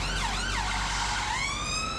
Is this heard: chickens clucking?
no